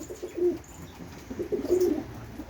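Pigeons on a balcony give soft, low coos in two short bouts, close by, over a quiet background hiss.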